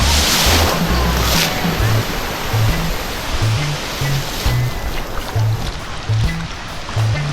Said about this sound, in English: The waves are actually a little bit stronger than I thought.